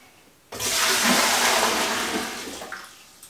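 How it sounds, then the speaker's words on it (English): Water pours steadily into a Speidel Braumeister 10L brewing machine, about four liters, a loud close rushing gush that starts abruptly and runs continuously, easing slightly toward the end. "I'm going to fill the Braumeister with about 4 liters of water."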